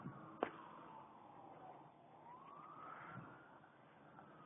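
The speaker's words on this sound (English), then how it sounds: "The ambulance over there, it's just, you know, probably going to a parade or something." Ambulance siren wailing in the distance near an old beach, a faint, steady rising and falling tone over outdoor background noise.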